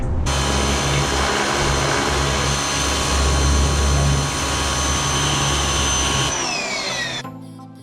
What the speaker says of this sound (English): Let's pressure wash this motor.